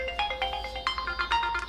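A phone ringtone chimes during a Hindi-language lecture, a repeating electronic melody of bright tonal notes in a steady rhythm, fairly close and clear over a quiet room.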